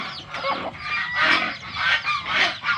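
Farm geese honking in a loose, repeated series of loud nasal calls, several birds overlapping at close range with mixed fowl in the background.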